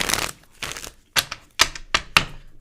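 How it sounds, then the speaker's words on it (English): Tarot cards being shuffled by hand, a series of crisp riffling bursts and soft slaps in close succession, near and fairly loud with brief pauses between, no talking. "So I'm just like here shuffling and y'all can't see."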